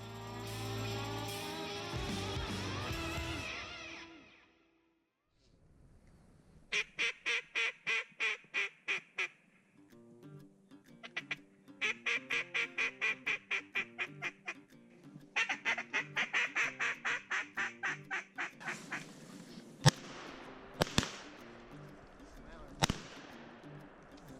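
Ducks quack on the water in rapid, rhythmic bursts, repeated several times, with a few sharp knocks in between, fairly faint and outdoors at a wildlife management area.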